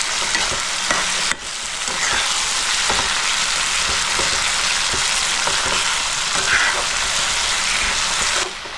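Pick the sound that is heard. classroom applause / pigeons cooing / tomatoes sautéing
tomatoes sautéing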